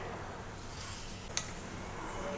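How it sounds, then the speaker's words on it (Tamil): Mustard seeds sizzling in hot oil in a kadai, a steady faint frying hiss with one sharp pop partway through. "கடுகு பொரிச்சிச்சுங்க"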